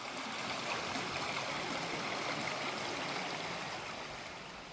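The River Rivelin in Sheffield rushes steadily over rocks near stepping stones, a continuous close, full-bodied watery wash that holds an even level from start to finish with no voices.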